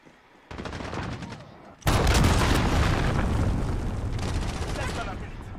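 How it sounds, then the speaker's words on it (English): A cruise missile explosion in a video game erupts as a loud, sustained booming roar with crackling debris, following an earlier rumbling buildup and continuing as a long heavy wash of noise. "Enemy cruise missile incoming."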